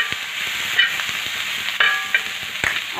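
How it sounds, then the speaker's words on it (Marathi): Coriander and green tomatoes sauté in a pan, giving a soft, steady sizzle with a few light scrapes and clinks from stirring, fairly close. "आता त्यामध्येच मी लगेच कोथिंबीर पण टोमॅटोमध्ये टाकून मी अशी थोडीशी 1 मिनटं परतून घेणार आहे."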